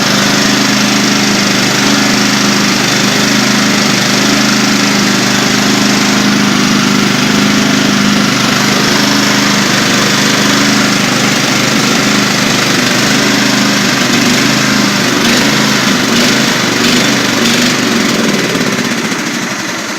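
A racing lawn mower engine runs steadily and loudly at close range for the whole stretch, a continuous rough mechanical drone with no pause before the gas runs out.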